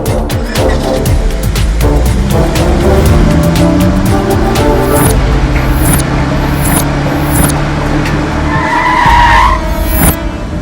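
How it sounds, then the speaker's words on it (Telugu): A car brakes suddenly, its tires skidding in a long, loud screech with a heavy rumble, in a movie street scene. "ఏంద్రా సడన్ బ్రేక్ వేసిండు?"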